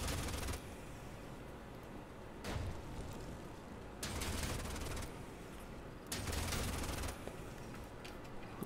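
Gunfire in the sci-fi strategy game Age of Wonders Planetfall, loud bursts of rapid automatic fire arriving in three or four separate volleys over a steady battle din, with no talk.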